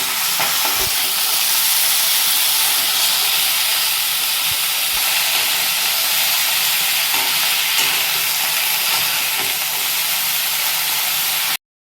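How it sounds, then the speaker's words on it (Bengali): Cauliflower pieces frying lightly in hot oil, giving a loud continuous sizzle and hiss close by, with a few soft knocks of stirring and no voices throughout. "এবার ফুলকপিগুলো দিয়ে একটুখানি হালকা করে ভেজে নেবো।"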